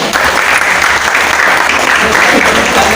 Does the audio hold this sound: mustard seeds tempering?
no